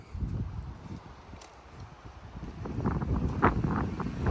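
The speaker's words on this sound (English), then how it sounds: "it's actually fairly windy out right now" Gusty wind buffets the microphone outdoors beside a house, a low rumbling roar that swells and grows stronger toward the end.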